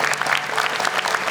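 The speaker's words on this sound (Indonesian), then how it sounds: "tepuk tangan dong" An audience at a children's Quran recitation talent show claps in a dense, steady burst of applause that sounds close and fills the room.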